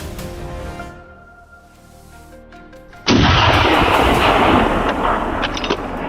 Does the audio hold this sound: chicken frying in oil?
no